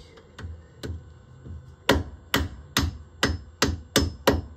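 Hammer blows on a screwdriver fitted with a square bit, freeing a brake part on a Tesla Model S P85; a few light taps, then six loud, evenly spaced sharp metallic strikes close by, with no talk.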